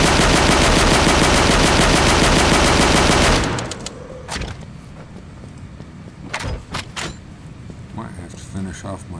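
Automatic gunfire in the horror game The Withering roars as one loud, sustained burst of rapid shots, then stops, leaving quieter clanks and thuds.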